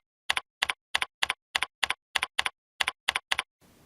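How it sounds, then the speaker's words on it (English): Keys on a computer keyboard are struck in a brisk, even run of about a dozen close, sharp clicks, paired taps in quick succession, then a brief faint hiss. "And then we'll type in our description of this code."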